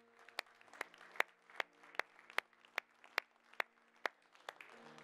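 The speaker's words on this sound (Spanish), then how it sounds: "Un aplauso a nuestro Señor." A church congregation claps in a slow, steady rhythm, with sharp regular beats about every half second over a low sustained hum.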